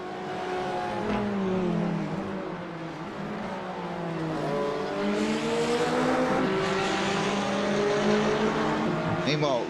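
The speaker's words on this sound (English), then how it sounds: "we see the two McLarens fighting it out on track" Two McLaren GT4 race cars battle on a circuit, engines droning loud and steady with rising and falling pitch as they accelerate and shift, a brief tire squeal and passing rush near the end.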